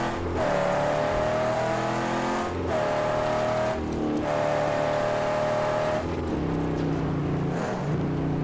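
Engine of a pipe-studded car in the Mad Max video game, loud and steady, revving up in three rising sweeps with gear-like drops between them, a continuous drone under no talk.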